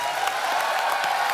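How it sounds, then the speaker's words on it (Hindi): Loud, steady applause from a studio audience on a Hindi comedy talk show as a guest is welcomed, a dense continuous wash of clapping with no gaps. "जोरदार तालियां।"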